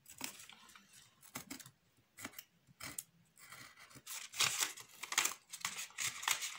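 Repeated sharp snipping and crinkly cutting sounds of a craft cutter slicing through thin material, close up, irregular bursts growing denser toward the end.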